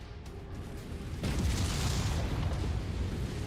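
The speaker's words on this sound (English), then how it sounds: "reactor explosion detected" A mech's reactor blows up in the MechWarrior 5 video game, a loud low rumbling blast that swells abruptly after a quieter start and keeps roaring through to the end, with no speech over it.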